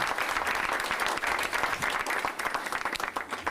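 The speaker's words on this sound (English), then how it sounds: "Let's give her a round of applause for all she does." Applause for a school PA president at a mayor's schools announcement at MS 890, a crowd clapping steadily and fairly loudly throughout, no voices standing out above it.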